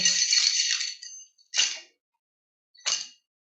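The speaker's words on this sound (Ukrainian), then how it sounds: "Подивіться, в мене в руках ключі. Це звичайні ключі. Але послухайте." Ordinary metal keys are shaken by hand, giving a long bright jingle followed by two short rattling bursts separated by pauses, close and clear with no talking.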